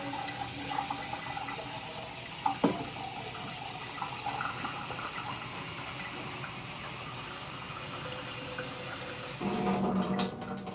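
Tap water runs steadily into a coffee maker pot, a continuous close splashing fill that carries on for several seconds before the flow shifts and grows louder near the end.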